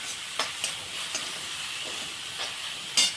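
Green chillies fry with onions in a pan, giving a soft, steady hiss broken by a few brief stirring scrapes, fairly quiet and close, with no talking.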